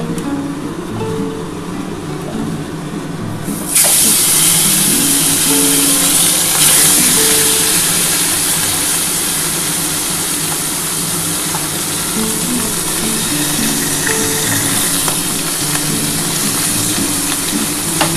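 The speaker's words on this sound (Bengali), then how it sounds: "এটা আমি ভেজে নেব।" Tilapia pieces go into hot oil for a Bengali fish curry, and a loud, broadband sizzle bursts in suddenly a few seconds in. The hiss stays close and steady until the end, with no talking.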